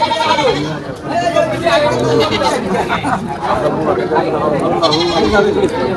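Goats bleating amid a crowd's chatter at a goat market in Charbhadrasan, Faridpur, their calls rising over steady nearby talk and background bustle.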